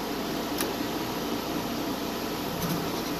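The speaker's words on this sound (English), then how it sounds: "Here goes the blower starting." A home furnace blower runs as a steady, fairly loud broadband whoosh with a faint hum beneath, continuous throughout with no talking.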